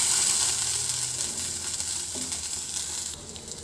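Pointed gourd (potol) pieces fry in hot oil in a pan, giving a close, steady hiss of sizzling that softens slightly near the end.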